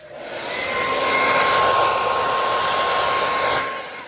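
A hair dryer on low heat and high air blows across fluid acrylic paint in a Dutch pour, rising to a steady loud whoosh with a thin whine for about three seconds, then tapering off, with no talking.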